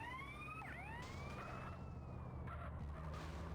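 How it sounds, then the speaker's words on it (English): A faint police siren in a video game wails in the distance, sweeping up and down under a constant low rumble. "The siren means get out of the way, bro."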